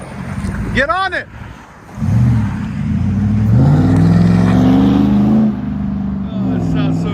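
A 2007 Chevy Avalanche LTZ with a 5.3-liter V8 and loud aftermarket exhaust pulls away, its deep engine note rising and holding under acceleration after a short voice, loud and close.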